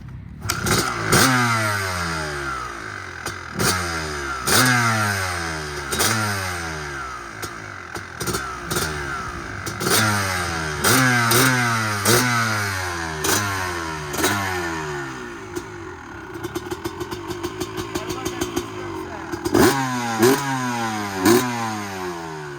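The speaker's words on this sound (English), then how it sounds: "Let me kick it real quick so y'all can hear that old two-stroke glory." A 2005 Honda CR250R two-stroke motocross bike starts after a kick and revs hard in repeated sharp bursts, its raspy engine loud and close, with a rapid ringing rattle near the end and no talking.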